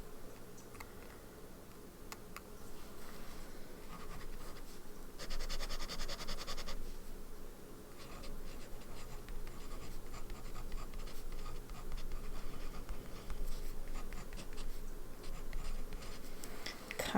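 A pen scratches across a swatch card while writing with Sailor ink, giving soft, close, intermittent scratching strokes with small ticks and a louder burst partway through.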